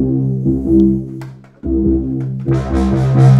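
Synthesizer patch from an OB-Xa clone with its filter swept open and closed by a pedal, sustained chords that darken and brighten, with a brief dip in the middle and the tone opening up bright near the end.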